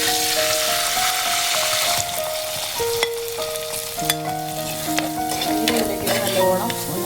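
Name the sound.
frying dried red chilies and curry leaves in oil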